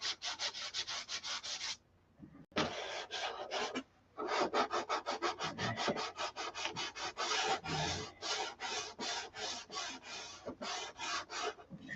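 Hand sanding the finish of a Viper model in fast, rhythmic back-and-forth rasping strokes, close and steady, broken by two brief pauses, with no talking.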